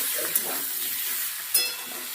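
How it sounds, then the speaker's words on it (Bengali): Fish oil and swim bladder frying in a little oil in a pan, a soft continuous sizzle with two brief sharper spits, fairly quiet and close. "ভাজা ভাজা করে নেব।"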